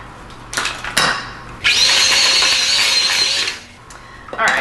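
An electric mixer whirs loudly and steadily through cookie dough for a couple of seconds after a few short clunks of scraping, then winds down, with another brief burst at the end.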